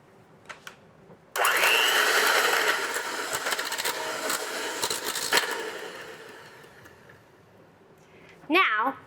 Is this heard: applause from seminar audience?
no